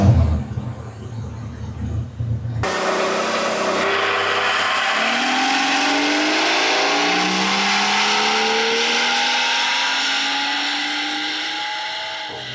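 A BMW M760i V12 with an aftermarket exhaust is run on a dyno, letting out a loud, close rev that climbs in a long sweeping pull after a short lower-pitched idle.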